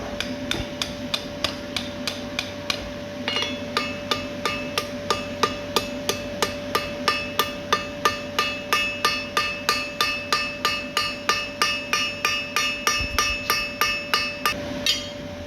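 A blacksmith's hammer rings on hot steel while forging scroll tongs, a long run of steady, evenly spaced metallic blows that speeds into a brisk rhythm, close and loud with no talk.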